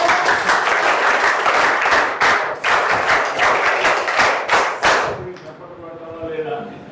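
Schoolchildren clap together in a loud, dense burst of applause with uneven thumping rhythm that fades out after several seconds, with voices talking over it.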